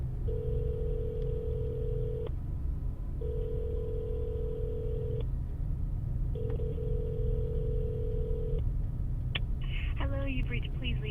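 A telephone call ringing out through a handset, three evenly spaced long ring tones over a steady low background hum, followed by a short burst of a different electronic tone at the end.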